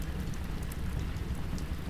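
Steady, dense rain pours outside a tent at a campsite at night, a constant close hiss and patter with no break and no voices.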